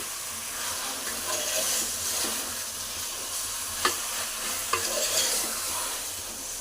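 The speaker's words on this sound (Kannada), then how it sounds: "ಈ ಥರ ಉಪ್ಪು ಮತ್ತು ಅರಿಶಿಣದಲ್ಲಿ ಈ ಥರ ಫ್ರೈ ಮಾಡ್ತಾ ಇರಬೇಕು." Food fries in oil with salt and turmeric, a soft continuous sizzle under occasional stirring scrapes and a couple of light utensil taps.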